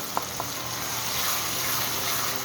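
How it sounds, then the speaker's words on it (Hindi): Minced meat keema sizzling with tomatoes in a kadahi over a full flame, a steady broadband frying hiss throughout with a couple of faint clinks near the start. "अब इसकी फ्लेम फुल करेंगे और इसको भूनेंगे"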